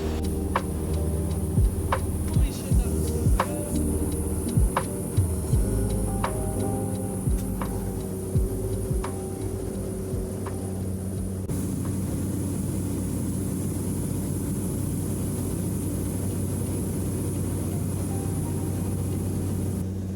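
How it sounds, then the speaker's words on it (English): Steady droning engine and propeller hum of a small 10-seater plane in flight over the northern Alaskan wilderness, loud and continuous from inside the cabin, with regular ticking clicks through the first half. "This 10-seater plane was the smallest plane I had ever flown in."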